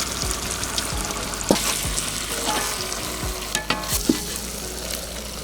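Eggs for egg keema masala fry in a pan while being stirred, a steady close sizzle broken by several sharp scraping and knocking strokes of the spoon against the pan.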